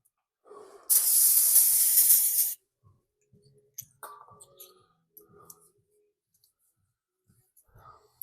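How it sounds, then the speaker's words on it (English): Brake cleaner aerosol sprayed onto the brakes of a 2012 Mercedes S550: one loud, steady hiss lasting about a second and a half, followed by scattered clicks and small handling noises. "I'm gonna clean up this area a little bit with some brake clean."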